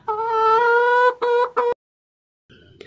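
Chickens on a poor farmer's poultry farm give a loud, harmonic, drawn-out cackle with a few short repeated calls, then silence before a faint later burst.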